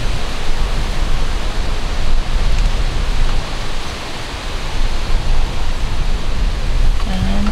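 Steady, loud broadband roar of strong wind buffeting outdoors, suddenly arriving before a thunderstorm after a hot, still day, constant and unbroken with slight surges, no voices present.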